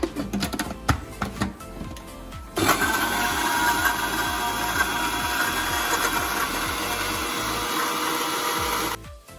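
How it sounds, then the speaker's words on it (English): Blender grinding fresh mint leaves with ice cubes and half a cup of water for mint lemonade, starting after a few seconds of clatter and running as a loud steady whirring roar for about seven seconds, then stopping abruptly. "Now we blend it"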